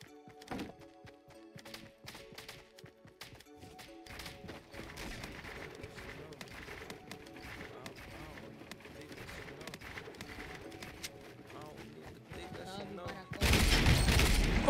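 Rapid pistol shots in a Fortnite match, sharp bursts packed together through most of the stretch and rising to a loud dense volley at the end, with a player talking intermittently underneath.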